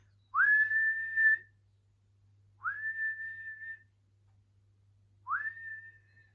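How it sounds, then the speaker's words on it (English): Three long whistles from a children's story audiobook about Moomintroll, each a rising note that levels into a steady held tone, evenly spaced with pauses between, clear and alone. "Moomintroll summoned everyone up with 3 long whistles, which means something extraordinary has happened"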